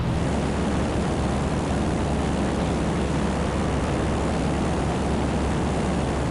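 A light airplane's engine runs at full throttle in flight after sitting abandoned for 15 years, a steady, loud, unbroken roar with wind rush filling the cabin and no talk over it.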